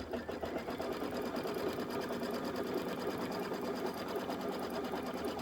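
A sewing machine runs steadily and close up, a continuous rapid whirring stitch as the outer borders of a quilted table topper are sewn down, with no pauses across the clip.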